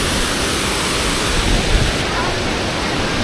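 Waterfall at Doi Inthanon, Thailand's highest peak, on a rainy day: a loud, steady broadband roar of rushing water fills the whole clip close to the microphone.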